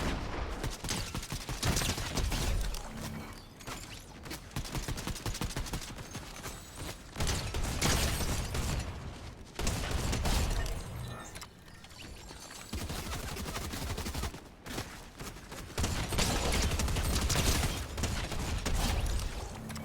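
Gunfire in the Fortnite video game comes as loud, dense volleys of rapid shots, repeating in bursts over about twenty seconds amid other busy game sounds.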